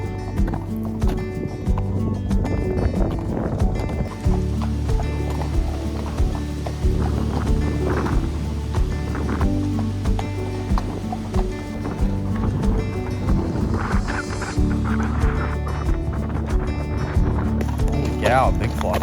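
Horse hooves clip-clop steadily while riding on horseback through Nebraska. The rhythmic hoofbeats are close and fairly loud over a continuous rumble of outdoor background noise.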